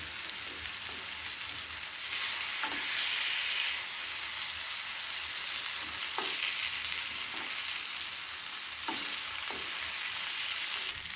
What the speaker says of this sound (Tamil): வாழைக்காய் வறுத்து வச்சுக்கிட்டோம்